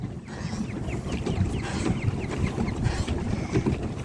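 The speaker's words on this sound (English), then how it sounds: "Paddle boating." A paddle boat moves across wavy open water, with a steady churning wash and gusting wind noise running through the whole stretch, and some faint chirps above it. No one speaks.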